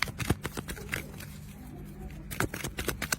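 Tarot cards shuffled for a sentimental reading, close riffling and flicking in two quick bursts around a brief lull, with a voice murmuring faintly underneath.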